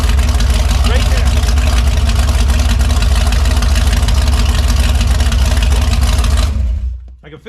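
A Chevrolet 396 big block V8 in a 1972 Chevelle runs loud and steady during break-in, a dense low rumble that cuts off abruptly near the end.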